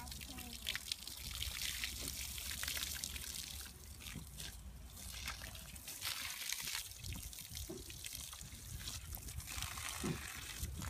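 Water splashes and trickles in a child's bath with irregular spraying bursts from a handheld spray, while a voice talks faintly underneath.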